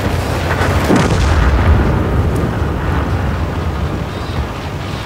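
A tank gun fires in the World of Tanks video game, a loud, booming blast whose deep rumble rolls on for several seconds with no voices over it.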